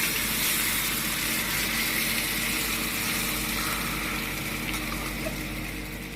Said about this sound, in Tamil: இப்போ 1 கப் அளவில் தண்ணியும் விடுறேன்.